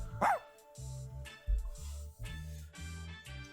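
Ohagi, a dog in the game Hime-sama Love Life, gives a short bark near the start, sharp and close, above soft background music that carries on.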